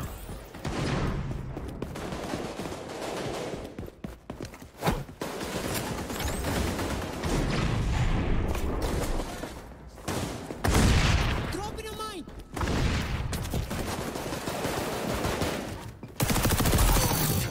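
Rapid bursts of MP5 submachine gun fire in a video game, loud repeated automatic volleys with brief gaps between strings of shots, dense and chaotic throughout.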